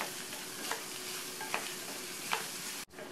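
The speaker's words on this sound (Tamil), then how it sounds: "முள்ளங்கியில் உள்ள நீர் சத்தெல்லாம் போய் முள்ளங்கி லைட் கோல்டன் ப்ரௌன் கலராக வர வரைக்கும் வதக்கிக்கணும்" Sliced radish sautéing in oil in a pan over a low flame, a soft continuous sizzle with a few light scrapes from stirring and a brief clatter near the end, faint and close.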